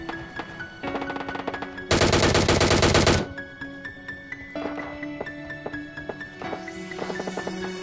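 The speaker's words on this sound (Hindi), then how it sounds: "मुझे आगे की तरफ से कुछ फायरिंग की साउंड आ रही थी" Automatic gunfire in the mobile game PUBG Mobile, rapid bursts and one loud sustained volley over steady background game sounds, fairly close.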